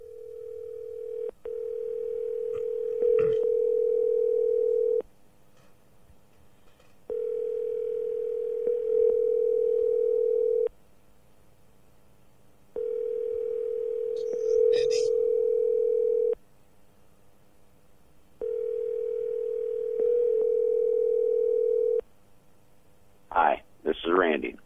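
A telephone rings out on a call to Randy, four long steady ring tones with silent gaps between them, loud and clear, then a click as the line picks up.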